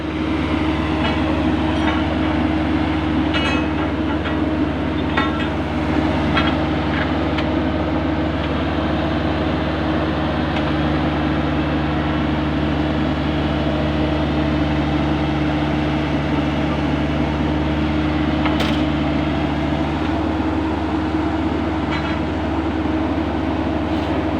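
A machine works beside a roadside, pushing pipe about fifteen feet underground for a wi-fi cable line, giving off a steady, loud mechanical drone with a low hum and faint intermittent clicks throughout.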